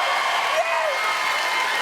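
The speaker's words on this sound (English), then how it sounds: "give a massive round of applause to Phil from Big Fun" Comedy show audience greets a special guest with loud, continuous applause and cheering, a dense roar of clapping with a whoop rising over the crowd.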